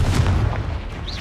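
A Confringo fire spell bursts in Hogwarts Legacy, a short deep boom with a rumbling low-end blast that fades within about a second.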